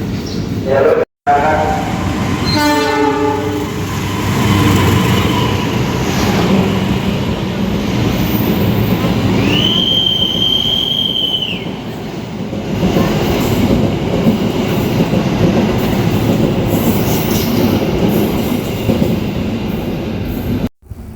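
A commuter train rides toward Tanah Abang in Jakarta. Its loud, steady rumble and clatter carry on throughout, a horn sounds briefly midway, and faint voices mix into the noise.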